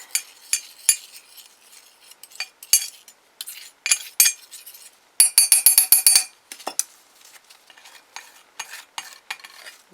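Acrylic paint being stirred with glitter in a container, a steady run of scraping and clinking strokes with one faster burst in the middle, close and fairly quiet, with no talk.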